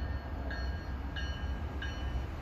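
A commuter train of double-decker cars, led by a cab car, arrives on the Providence and Wickford Junction line near Mansfield. A steady broadband rumble runs throughout, with three short high-pitched tones spaced evenly over it.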